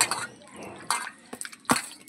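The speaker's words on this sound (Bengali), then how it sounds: "আমি জল দিয়ে ধুয়ে নিচ্ছি" Palm fruit being rinsed with water by hand, giving short splashy drips and wet squishing bursts in a few separate clusters, fairly close and moderately quiet.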